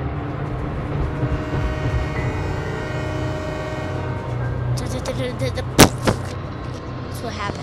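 Train rumbling past at close range with steady low-frequency clatter and engine drone, a sharp horn blast near the end; people talk over it.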